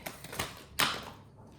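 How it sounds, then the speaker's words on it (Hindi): Tarot cards spill and drop from a deck mid-shuffle, a few soft papery taps followed by a sharper, louder flutter of cards landing together, then quiet. "ओके, काफ़ी कार्ड्स गिर गए हैं।"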